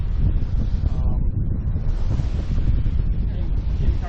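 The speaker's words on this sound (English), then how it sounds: "Waves out here today." Waves wash against a Catalina 30 sailboat on open water in the North Channel, a steady rushing surge mixed with heavy wind buffeting the microphone, with brief talk.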